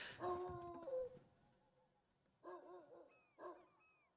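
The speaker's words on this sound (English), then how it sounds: "Where is that dog barking from?" A dog in The Sims 3 barks and yips in short bursts: a cluster at the start, then two separate barks later, moderately distant against quiet background.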